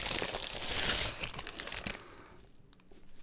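Loud crinkling and rustling of a paper bag holding a pastry being handled up close, dense at first and then tapering off into quieter scattered crackles.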